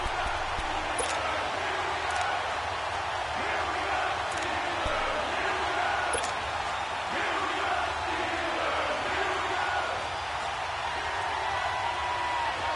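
A stadium crowd in a PS4 American football video game roars steadily and evenly throughout, a dense wash of cheering with a few sharp whistles standing out on top.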